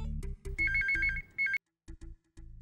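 Telephone ringtone chirping in short repeated electronic bursts with brief gaps, clear and close in a quiet indoor room.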